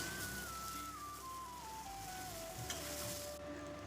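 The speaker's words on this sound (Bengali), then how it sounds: "এরপর এই চালটাকে ভালো করে সাঁতলে নেব" Rice with cashews and raisins sautés in a pan with a faint continuous sizzle and light stirring, while a thin whistle-like tone slides slowly downward in the background.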